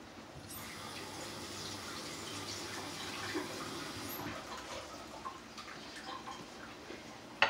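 Water running steadily from a kitchen tap while a spoon is rinsed under it, a constant close splashing rush with faint clinks and no talking.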